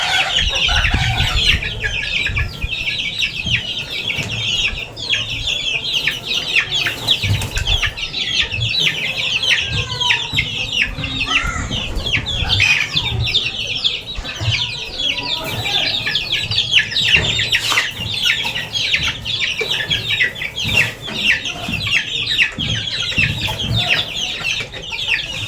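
Flock of six-week-old chicks clucking and peeping continuously near their water, a dense, busy chatter of many birds close by throughout.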